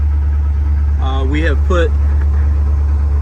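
A 1980 Corvette engine idles steadily while warming up, a continuous low rumble that holds throughout as someone speaks briefly over it.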